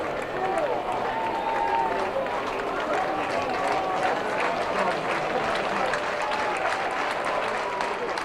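A college baseball crowd at a Florida versus Miami game claps and cheers continuously, urging a strikeout on a 1-2 count, with a broadcast voice faintly mixed in.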